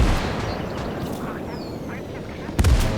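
Mortar rounds land during a World War II strategy battle in Gates of Hell, with a sharp, heavy impact near the end over a busy backdrop of distant combat and voices.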